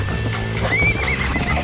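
A horse in the video game Red Dead Redemption 2 gives a loud, rising whinny while hooves clip-clop underneath, close and brief.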